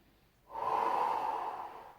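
A single long, deep breath drawn during a ribcage breathing exercise with a Swiss ball, a close, airy rush lasting about one and a half seconds in a quiet room.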